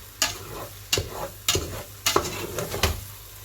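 Egusi with a little fish frying in a pot, stirred with a spoon in sharp scraping strokes about every half second over a low, continuous sizzle, close and loud with no voices.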